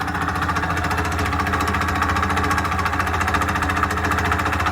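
Air compressor pump inflating air shocks on a 1969 Chevelle SS, a steady rapid mechanical chugging and buzzing, moderately loud and continuous without talk.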